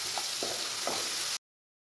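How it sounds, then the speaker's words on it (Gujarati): Ground onion sautés in a pan with whole spices and a pinch of hing for a Kathiyawadi green pigeon pea dish. A soft, steady sizzle runs with a few light stirring scrapes, then cuts off abruptly. "ડુંગળી આપણી અહીંયા સતળાઈ રહી છે"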